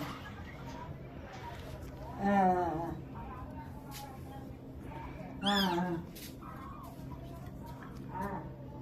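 A kitten meows twice, close and fairly loud, rising above steady background noise while people talk nearby during milk feeding.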